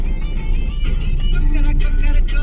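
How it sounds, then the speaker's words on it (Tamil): Road traffic with cars and lorries, a loud, dense, continuous rumble of engines and passing vehicles close by, steady throughout without clear gaps. "பாருங்கள் எவ்வளோ டிராஃபிக்ப்பா, இந்த லைன் தான் மூவ் ஆகுது"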